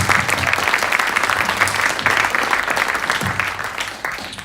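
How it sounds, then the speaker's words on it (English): An audience at a town hall meeting in Jefferson, Iowa, claps loudly and steadily in a dense wash of applause that slowly tapers toward the end. "let's give her a round of applause for teaching our kids"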